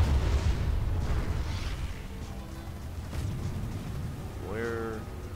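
Explosions in the Planetside 2 video game rumble as heavy low booms, strongest at the start and fading under the mix, with someone talking over them throughout.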